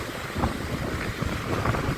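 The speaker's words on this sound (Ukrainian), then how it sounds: "Але гарний, здоровий такий свіжий вітер." Steady wind on a Black Sea shore in late autumn blusters across the microphone with a low rumble, gusting in uneven surges, likely with surf underneath.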